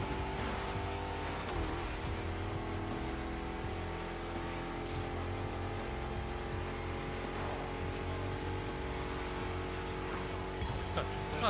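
A drift car in the racing game The Crew Motorfest drones with a steady engine tone, shifting pitch as it revs, with tire noise and a brief flurry near the end.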